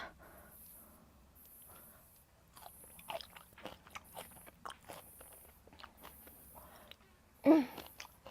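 A bite into a sour fruit, heard as soft crunching and chewing close to the microphone, ending with one louder crisp bite, over a quiet background with light murmured sound.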